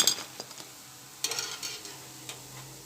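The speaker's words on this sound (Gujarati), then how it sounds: "આ જ રીતે આપણે બધા ઢેકરા તળી લઈશું." Green tuver vada (dhekra) frying in hot oil, with a low sizzle under a few sharp clinks and scrapes of a utensil against the pan, close by, no one speaking.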